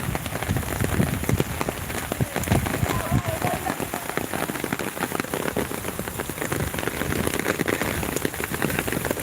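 Steady monsoon rain in Konkan patters on hard surfaces, a dense continuous crackle of drops close by, with faint voices now and then.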